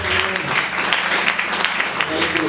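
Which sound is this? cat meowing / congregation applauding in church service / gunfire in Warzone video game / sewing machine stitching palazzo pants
congregation applauding in church service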